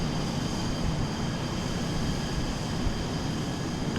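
An F-35B jet lifts off vertically in Microsoft Flight Simulator 2020, giving a steady, loud, broadband engine roar that holds evenly throughout with no voices.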